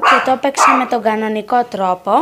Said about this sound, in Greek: Sorry, αυτό ήταν το σκυλί μου.